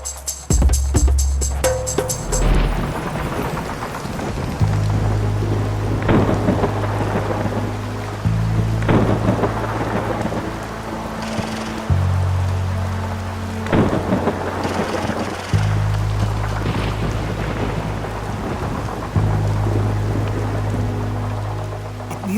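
Heavy night rain pours steadily while deep thunder rumbles and cracks repeatedly, loud and close, with no voices over the storm.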